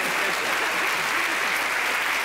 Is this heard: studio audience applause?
yes